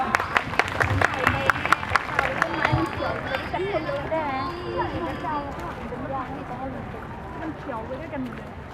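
Applause from onlookers at a Loy Krathong procession at a university in Maha Sarakham, with sharp claps and shouts up front that fade into a crowd's hubbub of voices and singing as the clapping dies down.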